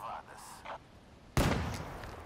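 Faint muffled sounds give way to a single sharp gunshot in Call of Duty: Black Ops 3, its echo trailing off.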